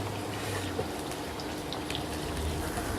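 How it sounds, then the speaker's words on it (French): Onions sizzle in oil in a wok, a steady, soft hiss of frying that holds evenly throughout without pauses. "un trait d'huile dans le wok, et on rajoute les oignons, on les fait rissoler"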